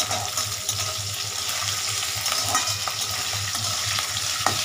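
A spiced chicken curry sizzles in a frying pan while it is stirred, making a steady fry hiss with scraping strokes of the spoon. The sound is close and continuous, with no voices.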